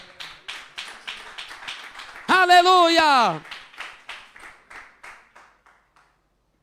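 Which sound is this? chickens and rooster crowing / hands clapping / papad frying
hands clapping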